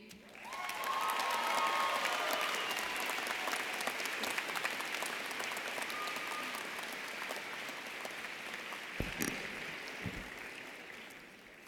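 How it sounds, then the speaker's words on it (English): Sustained, dense applause from a large audience at a spring commencement ceremony for the social work class of 2018, swelling quickly and then gradually thinning, with a few faint cheers and no talking. "Another round of applause for the class of 2018."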